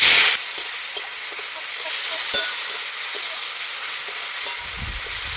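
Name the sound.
tomatoes poured into hot oil, frying and sizzling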